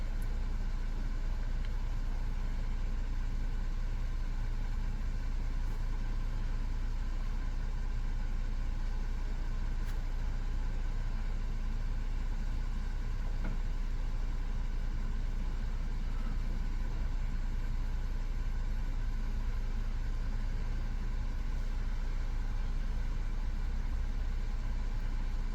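A 2020 Jeep Grand Cherokee engine idles at a steady low rumble with a constant hum, close and unchanging throughout.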